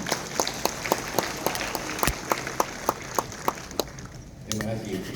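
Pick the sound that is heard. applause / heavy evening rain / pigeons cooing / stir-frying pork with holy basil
applause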